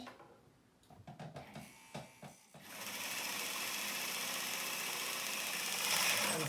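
An electric sander smoothing a curve on a metal jewelry piece after a dip in water: a few light taps and handling clicks, then a steady high whirring grind that runs loud and unbroken to the end.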